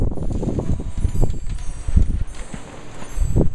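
Wind at an outdoor yard sale, a loud, gusty low rumble buffeting the microphone continuously, with scattered knocks and rustles mixed in.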